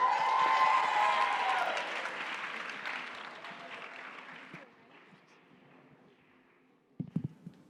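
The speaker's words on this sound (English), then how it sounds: "A round of applause." An audience at a resident benefit concert at International House, Berkeley applauds performers before a jazz piece, the clapping loud at first and then thinning and fading away, followed by a few brief knocks or taps near the end.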